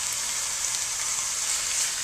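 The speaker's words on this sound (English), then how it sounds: "you dump that in there, and you want to hear the sizzle" Oil sizzles and crackles steadily in a hot frying pan, a close, bright hiss with no voices.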